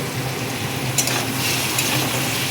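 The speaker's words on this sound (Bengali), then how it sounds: "এবার এগুলো ভালো করে ভেজে নেবো" Cauliflower and carrot pieces fry in a pan for chicken pasta, giving a steady close sizzle broken by a couple of stirring clinks and scrapes.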